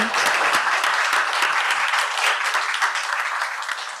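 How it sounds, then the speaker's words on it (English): Steady audience applause fills an event hall at an ocean satellite gathering, a dense wash of many hands clapping throughout, slowly easing toward the end. "I'd like a round of applause for our tech guys in the back"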